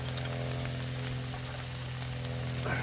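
Peppercorn sauce full of mushrooms sizzling on hot ashes of a homemade squirrel cooker outdoors, a steady continuous fry with a faint scrape near the end.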